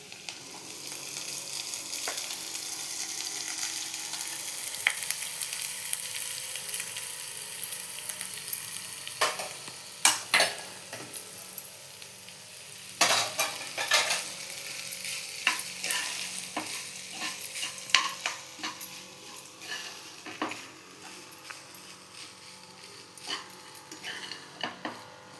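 A spoon stirs cooked foxtail millet upma in a hot pan with a soft sizzle, keeping up a long run of continuous scraping broken by scattered clacks against the pan.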